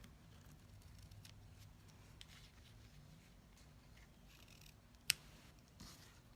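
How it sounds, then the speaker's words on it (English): Scissors snip off leftover ribbon after a knot is tied for a handmade stamped card: a few faint, close cuts in a quiet room, with one sharp louder snip near the end. "we're going to tie a knot and then trim the excess off"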